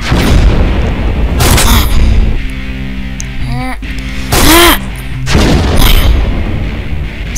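Bazooka explosions in a video game: loud booming blasts come in several bursts, with crackling debris and whooshing noise between them.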